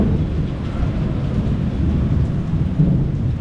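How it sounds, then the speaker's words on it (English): Thunder rumbles and steady rain pours onto the roof of a Manila resort, a dense, continuous low roar heard close with no voices. "you're getting the lightning and thunder version, as you can hear"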